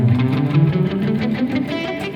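Electric guitar runs a three-note-per-string scale, plucked notes following one another in a steady stream, sounding close and fairly loud through an effected tone with a touch of echo, with no talking.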